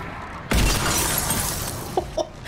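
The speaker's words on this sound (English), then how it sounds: "I will honestly never get over them shattering into a million pieces" In Mass Effect 3, an enemy shatters into pieces with a sudden loud crystalline burst that trails into a crackling rush of debris, followed by a couple of small clinking fragments.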